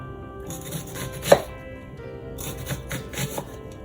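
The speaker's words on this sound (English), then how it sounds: "we're going to slice straight down using our fingers as our knife guard" A kitchen knife slices straight down through an onion on a cutting board, a few crisp, irregularly spaced chops close by with one sharper cut standing out.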